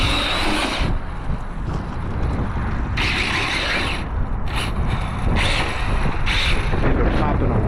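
A Kyosho GT-1 RC car runs with a loud, continuous whirring and ratcheting mechanical drone, surging in brief bursts as it accelerates and pops a wheelie.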